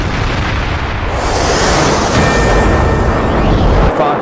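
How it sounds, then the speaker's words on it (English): Israeli airstrike explosions in news footage, a continuous loud, rumbling roar of blasts that fills the whole stretch with no talk over it. "This is the moment that Israeli airstrikes hit."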